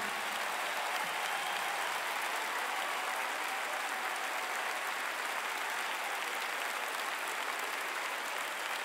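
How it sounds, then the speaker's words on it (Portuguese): A large arena audience at a concert applauds a guest singer, a dense, continuous roar of clapping that holds steady and even for the whole stretch, with no voice on top. "para ele eu peço um grande aplauso"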